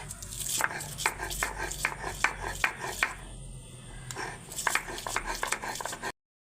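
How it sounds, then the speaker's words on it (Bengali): Onions being ground into a coarse paste on a traditional grinding stone, a steady series of close, rough scraping strokes with short pauses between, and no talking. "এখন আমি পেঁয়াজগুলো বেটে নিচ্ছি এই যে পেঁয়াজ"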